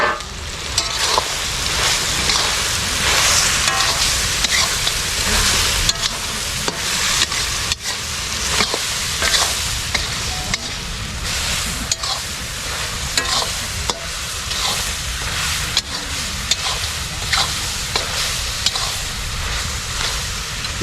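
About four kilos of mutton with black pepper are stirred in a large karahi wok, giving a loud, continuous sizzle broken by repeated scraping and clattering strokes of the ladle.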